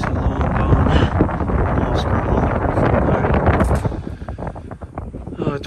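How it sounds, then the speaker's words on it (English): Loud, steady wind buffets the microphone with a roaring rush, easing off somewhat toward the end, high up at an abandoned manor house in upstate New York. "It's windy up here."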